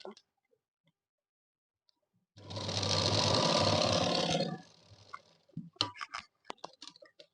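A sewing machine stitches lining onto a cutwork sleeve in one steady burst of about two seconds, a fast loud whirring run. Quiet clicks and fabric handling come before and after it.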